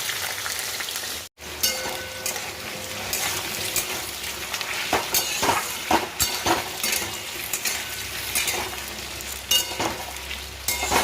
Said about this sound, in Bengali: আলুটা বেশ খানিকটা ভাজা হয়ে গেছে।